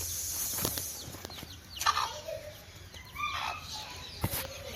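Baby hens cluck and peep in short, scattered calls, with a faint higher chirping and a few louder bursts, fairly quiet and close with no talk.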